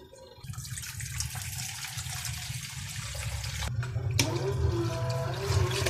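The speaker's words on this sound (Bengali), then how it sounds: "এই যে পানি দিতেছি।" Water poured into a pot of chicken, a continuous splashing and gurgling stream that grows louder and shifts in tone as the pot fills, close up with no voices.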